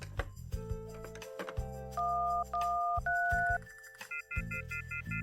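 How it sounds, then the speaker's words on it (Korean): Push-button tones of a landline telephone being dialed repeatedly at an inn while the line is dead, a run of short beeps and longer held tones with clicks of the handset between them, close and clear, with no voices. "주인은 여기저기에 전화를 시도했지만 전화는 먹통이었다."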